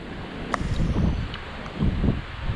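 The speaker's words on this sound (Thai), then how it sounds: "ลมแรงครับวันนี้" Strong wind buffets a microphone aboard a small fishing boat on the Andaman Sea, gusty uneven roaring rising and falling in waves, with a faint clink and no speech.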